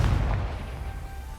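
A Confringo fire curse bursts in Hogwarts Legacy, a deep booming blast that lands at once and then rumbles and fades over about a second.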